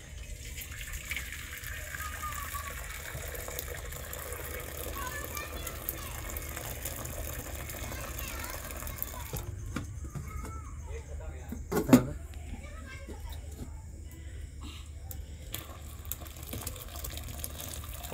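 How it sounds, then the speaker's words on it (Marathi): Water is poured off from a cooking pot in a quiet, continuous trickle and splash beneath a low background hum, with a brief louder gush partway through and speech-like sound alongside. "शेवटचं आता आपण पाणी काढून घेऊ"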